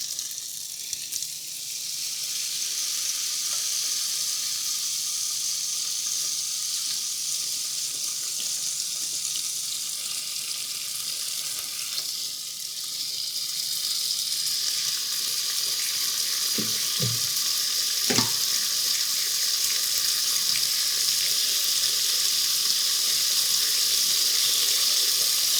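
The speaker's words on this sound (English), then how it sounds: "got grilling sounds" Steady close sizzle of chicken cooking on a hot grill for an Italian pesto sandwich, a continuous bright hiss with a few soft knocks near the end, no voices.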